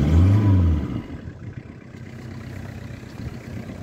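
Engine of a Peugeot 306 with a turbo, a deep pulsing rumble that swells at first, then settles into a quieter, steady running drone.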